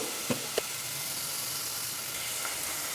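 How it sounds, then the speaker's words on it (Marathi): Onion salted and sautéing in a pan sizzles steadily and close for a Kolhapuri whole masoor dish, with a couple of brief stirring knocks early on and no voices. "कांदा व्यवस्थित परतून घेऊया"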